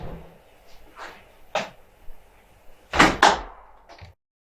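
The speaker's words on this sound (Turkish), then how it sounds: "görme engelli kapıyı kapatır" A door is closed by hand by a blind person with a guide, giving a few soft knocks and handling sounds and then a louder double thump as it shuts.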